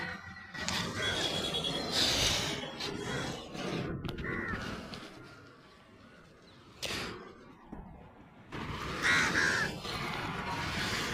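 Crows being fed from trays set out over a river caw loudly in repeated harsh bursts, several birds close by, with gaps of quieter outdoor noise between.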